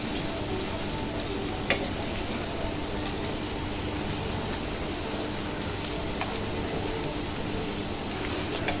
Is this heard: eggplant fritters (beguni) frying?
yes